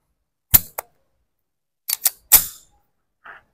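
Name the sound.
Springfield Armory XD-45 pistol being fired at 7 meters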